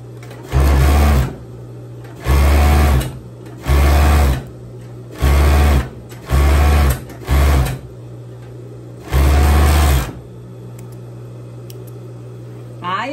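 An overlock sewing machine stitches the seams of a long dress in loud close bursts, seven runs of steady whirring chatter of one to two seconds each separated by short pauses.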